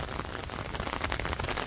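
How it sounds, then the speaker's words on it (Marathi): Steady rain pours down during the monsoon outdoors, a dense, even hiss of drops striking surfaces with no pauses, fairly soft overall and with no voices. "पाऊस पण वाढलाय"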